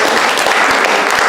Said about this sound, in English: Give them a clap as well.